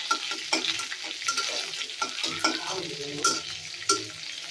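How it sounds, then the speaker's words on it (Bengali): Chopped onion frying in a pan with dried red chillies, a soft continuous sizzle broken by repeated scraping stir strokes and light clinks of a spoon against the pan. "এটা একটু ভাজা ভাজা করে নিই।"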